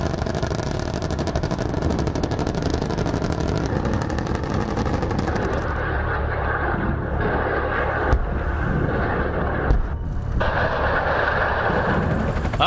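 An Apache multi-role combat helicopter flies loud and close, its rotor thrum pulsing at first, then shifting into a rougher roar with a couple of sharp knocks.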